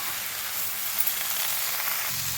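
Spinach greens, pumpkin leaves in a village-style recipe, dropped into hot oil and stirred, giving a steady, bright, even sizzle that stays close and constant throughout with no talk over it.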